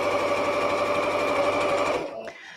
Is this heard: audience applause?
no